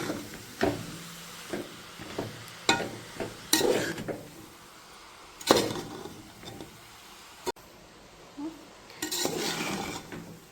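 Carrots sautéed in ghee in a pan, with clattering spoon-against-pan stirring strikes at irregular intervals over a faint background sizzle; no one talks.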